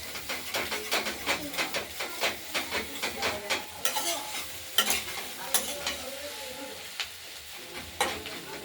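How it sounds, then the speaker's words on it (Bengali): Spring onion stalks and potato sizzle in a frying pan while a spoon stirs and scrapes in repeated quick strokes, close and moderately loud, with a steady hiss underneath. "পেঁয়াজ কলিগুলোকে মাঝে মাঝে নেড়ে দিতে হচ্ছে"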